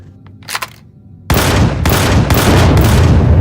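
Turret gunfire in the space game Empyrion: Galactic Survival during a mining complex raid: a faint blip and a few soft bursts, then loud, continuous rapid-fire shooting with repeated sharp volleys that fill the rest of the moment.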